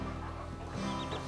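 A mother hen with her chick gives soft, low clucks close by against a steady background hum.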